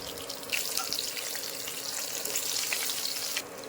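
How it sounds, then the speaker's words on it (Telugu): Urad dal, mustard seeds, cumin and green chillies fry in hot oil for a capsicum dish, giving a loud, continuous crackling sizzle close up that holds steady for about three seconds before dropping off. "ఆయిల్ వేడయ్యాక హాఫ్ టీ స్పూన్ మినపప్పు హాఫ్ టీ స్పూన్ ఆవాలు హాఫ్ టీ స్పూన్ జీలకర్రని తీసుకొని అందులోనే రెండు పచ్చిమిర్చిలు వేసుకొని ఫ్రై చేయండి"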